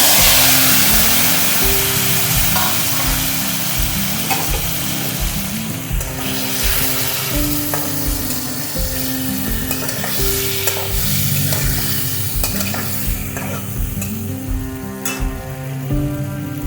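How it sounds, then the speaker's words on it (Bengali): Prawns fry in a hot pan with a steady loud sizzle, and a spatula stirs and scrapes them in rhythmic strokes the whole time. "চিংড়ি মাছগুলো ভেজে নেব"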